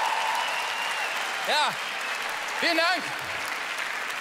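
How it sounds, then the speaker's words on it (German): A comedy show audience breaks into steady applause, a continuous wash of clapping that carries on while the comedian speaks a few brief words over it. "Anscheinend bin ich jetzt in einem Alter, wo man Applaus dafür kriegt, wenn man sein Alter sagt."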